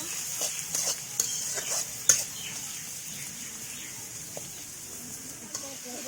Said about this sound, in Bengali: এবার পেঁয়াজটা খুব ভালো করে ভেজে নেব।